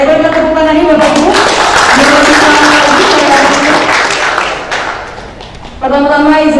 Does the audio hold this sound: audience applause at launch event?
yes